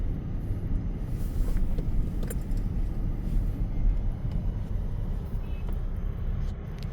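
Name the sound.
road traffic and passing cars on a snowy street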